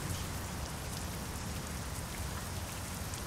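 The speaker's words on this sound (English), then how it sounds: "it's some heavy thunderstorm going on in game" Heavy thunderstorm rain in the truck-driving game Euro Truck Simulator 2, a dense steady downpour drumming on surfaces with no pauses, fairly quiet and even throughout, with no talking.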